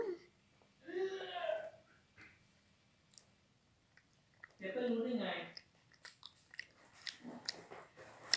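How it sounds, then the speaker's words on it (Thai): Two bites into a soft, fuzzy snack with a sour filling, each followed by a short run of close, wet chewing, with quiet spoken remarks between the bites. "เราจะลองกัดดูนะคะทุกคน"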